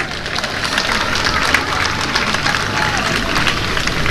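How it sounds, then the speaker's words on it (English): A large crowd applauds at a prison officers' cadet graduation parade, a loud, dense and continuous wash of clapping that holds steady throughout, with crowd murmur blended underneath. "We should clap for them too."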